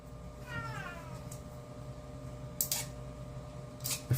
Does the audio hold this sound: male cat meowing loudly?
yes